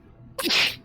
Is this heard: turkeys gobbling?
no